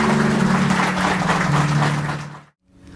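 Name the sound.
applause at wedding ceremony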